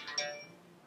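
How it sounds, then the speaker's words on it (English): A mobile phone ringtone chimes briefly, a bright tonal ring that swells and fades quickly, heard alone at moderate volume. "oh sorry that's my phone I'll mute that"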